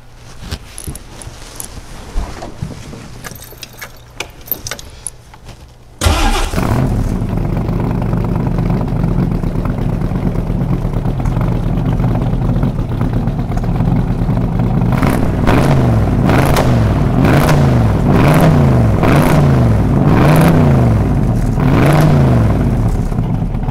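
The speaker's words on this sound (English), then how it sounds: "Hey Lance, do you mind if we can hear what the car sounds like?" A few faint clicks and rattles, then an engine bursts to life loudly and idles with a deep rumble before revving repeatedly in rising surges, close by.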